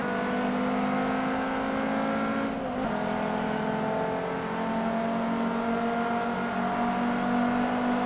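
Ford Focus race car engine in a racing video game, a loud steady high-revving drone holding pitch throughout, with a brief dip and gear shift near the three-second mark before settling back into a sustained whine.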